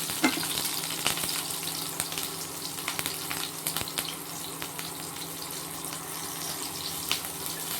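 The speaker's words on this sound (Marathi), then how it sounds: "हिरवी मिरची टाकायची लगेच, ती चांगली तडकू द्यायची।" Green chillies crackling in hot oil in a kadhai for sabudana khichdi, a continuous loud sizzle with sharp pops and spits scattered throughout, close and without talk.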